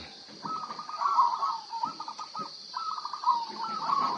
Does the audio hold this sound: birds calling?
yes